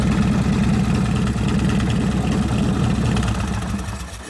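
A 1983 Harley-Davidson FXRT Shovelhead motorcycle engine with a Dyna ignition idles steadily up close with a rhythmic low chugging pulse, running evenly before easing off near the end.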